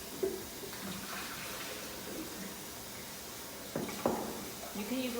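Alkaline water pours from a tap into a quart jar in a kitchen, a soft continuous splashing with a couple of louder clunks near the end.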